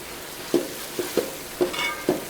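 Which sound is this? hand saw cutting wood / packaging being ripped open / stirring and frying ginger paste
stirring and frying ginger paste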